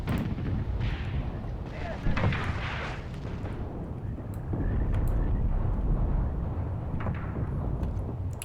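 Artillery booms and gunfire in a WW2 Eastern Front simulator video game, heavy rumbling blasts and scattered shots throughout, some near and some distant, with faint voices underneath.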